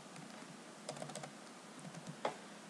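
Computer keyboard typing a nickname, a few scattered quiet keystrokes and a short burst of clicks near the middle, with one louder key tap toward the end over faint background hiss.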